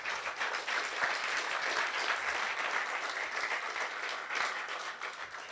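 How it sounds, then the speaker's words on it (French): A conference audience applauds a builder of an R2-D2 robot, a dense, sustained round of clapping from many hands that holds steady throughout, heard from within the hall. "On applaudit Jean-Michel Marchon."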